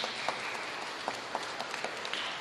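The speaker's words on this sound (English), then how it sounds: "Just give them a big round of applause" A church congregation applauds newcomers at a Sunday service, a steady wash of clapping from a moderate-sized crowd with a few sharper claps standing out, continuous throughout.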